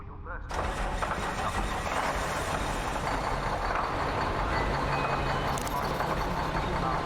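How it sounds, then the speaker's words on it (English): In the video game Stasis, a loader engine starts up and keeps rumbling, loud and steady as it echoes through a maintenance bay, with a low hum beneath it. "Sound of the loader engine echoes through the maintenance bay, and it is loud."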